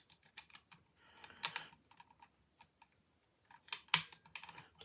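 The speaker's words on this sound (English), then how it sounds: "These parts need to fold out on Gripper" Plastic parts being folded out on a 1991 Transformers G1 Motorvators toy make a string of small, close clicks and taps, a few sharper snaps standing out, with quiet gaps between them and nobody talking.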